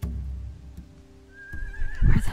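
A horse whinnies clearly near the end, a rising, wavering neigh over low rumbling background noise, preceded by a couple of soft knocks.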